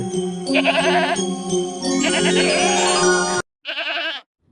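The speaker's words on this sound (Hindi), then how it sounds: "यह तो बकरी के चिल्लाने की आवाज है" A cartoon goat bleats loudly in long, wavering cries, one after another, then a final shorter bleat after a brief pause.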